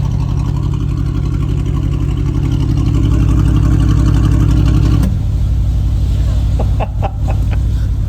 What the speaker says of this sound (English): Here's the difference of the flaps closing the exhaust.